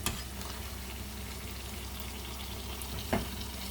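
Mini sopapillas fry two at a time in hot oil, giving a steady, soft sizzle and bubbling throughout, with one brief louder crackle near the end.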